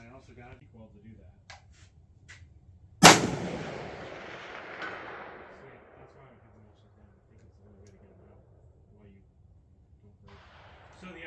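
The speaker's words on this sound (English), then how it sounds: "So I had to take a few sighters to see where impact was going to be first." A single loud rifle shot fired at a 400-yard target through a CVLIFE EagleFeather 6-24x50 scope, a sharp crack with a long rolling echo that fades over several seconds outdoors, while someone talks nearby.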